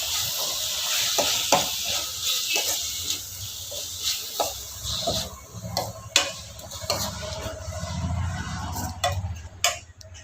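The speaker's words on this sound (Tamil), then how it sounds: "கொத்தமல்லி தலை புதினா அரைச்சி வச்சது இதில் போட்டுக்கோங்க இது நல்லா வதங்கட்டும்" A ground coriander and mint paste fries in a pan while being stirred, a steady sizzle broken by repeated spoon clicks and scrapes against the pan, fairly close, with no talk.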